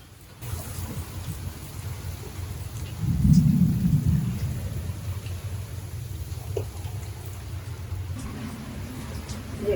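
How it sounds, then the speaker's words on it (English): Loud steady pelting of hail and rain during a thunderstorm with 50-knot winds, a heavy rumbling swell in the middle, dense and continuous throughout. "It's hailing."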